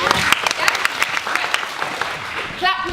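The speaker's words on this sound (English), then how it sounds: "Clap with me. Clap when I clap," A theatre audience at an amateur pantomime claps along, a dense run of fairly loud clapping with a voice rising briefly near the end.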